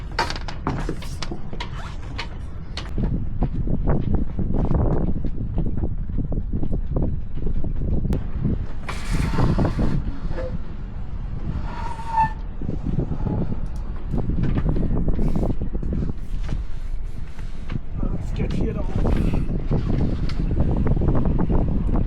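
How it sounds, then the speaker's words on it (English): Steady outdoor wind gusting across a microphone beside a boat on a Long Beach layover, a continuous low rumble with brighter rushing bursts throughout, no talk. "And of course the wind is kicking up right at this moment."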